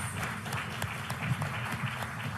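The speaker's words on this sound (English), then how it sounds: "Let's give them a round of applause." Steady applause from an audience, a dense wash of clapping that holds at an even level throughout with no pauses.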